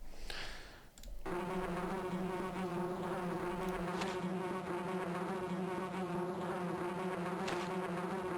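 Steady, dense buzzing of bees in the bee swat minigame of the Nacho Libre video game for Nintendo DS, a continuous synthetic drone that starts after a brief quiet opening and holds loud and even throughout.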